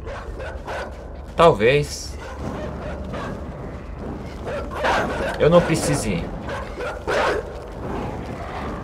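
Several sharp dog barks and yips from the video game Inside ring out intermittently while someone talks over them in the foreground.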